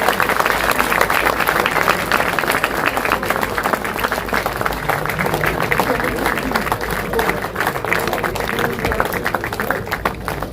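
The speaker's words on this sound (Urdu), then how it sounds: "باقی حضرات کو جب ریلیز ہو جائے گی تالیاں بجائیے اس لمحے کے لیے." Audience applause at an Urdu book release event, sustained dense clapping from a crowd that carries on steadily for the whole stretch.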